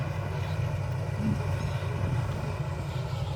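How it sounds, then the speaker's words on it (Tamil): A rice harvester machine working in a paddy field gives a steady, loud low engine drone that holds without a break. "அறுவை இயந்திரம் எப்படி பார்த்து பாருங்கள்"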